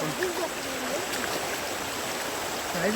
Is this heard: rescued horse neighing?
no